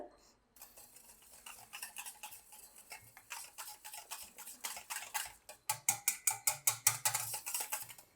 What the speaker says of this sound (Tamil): இப்போ ஒரு விஸ்க் வச்சு இல்லை ஃபோர்க் வச்சு நல்லா மிக்ஸ் பண்ணிக்கோங்க ரெண்டும் மிக்ஸ் ஆகிற அளவுக்கு